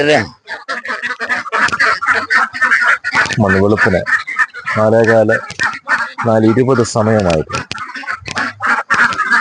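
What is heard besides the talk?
ducks quacking in a pen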